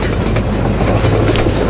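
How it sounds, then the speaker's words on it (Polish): Train in Half-Life 2 rolling in, a steady loud rumble of rail wagons with faint clickety-clack from the wheels, no voices over it. "Teraz czekam na pociąg."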